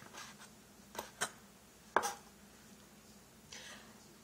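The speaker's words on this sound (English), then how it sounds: "This is how you slice. Really thin." A knife slices thinly through cooked fish for a Lao spicy algae salad, giving a few soft, separated cuts on a board, quiet with pauses between strokes.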